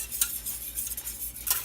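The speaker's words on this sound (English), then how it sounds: "so you want to keep it moving in your saucepan so it doesn't settle on the bottom" Milk and cream with chocolate stirred in a saucepan, a spoon or whisk scraping and clinking against the pan in a few quick strokes, close and fairly quiet, no talking.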